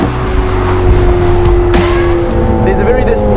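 A Ferrari 812 fitted with a Novitec exhaust revs hard against its limiter, a loud, sustained engine roar with a sharp burst partway through, while people talk over it.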